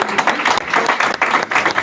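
Audience applause at a Jeunesse Contre La Drogue live event in Brockton, Massachusetts, a fairly loud patter of many hands clapping in uneven bursts.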